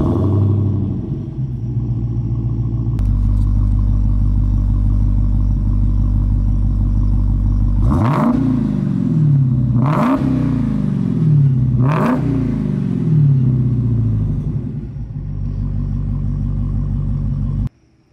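2019 Dodge Challenger Hellcat V8 cranking and firing up into a loud, deep idle, then three sharp revs that climb and fall back before the engine shuts off; no talking.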